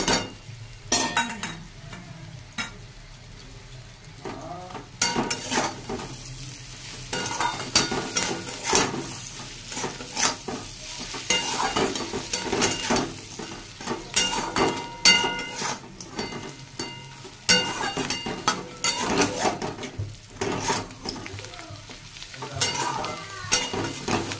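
Mola fish fries with onion, green chilli and garlic, a close, lively sizzle punctuated by frequent scraping and clinking as a spatula stirs the pan, uneven in rhythm and with no talking.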